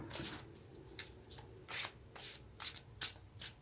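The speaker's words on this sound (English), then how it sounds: "the cards don't want to shuffle nicely" Several quick riffle bursts of a tarot card deck being shuffled, crisp and close, repeating in short rhythmic spurts with brief pauses between.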